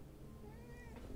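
A cat meows in the Girls Frontline video game, a soft drawn-out call rising and falling over steady background music.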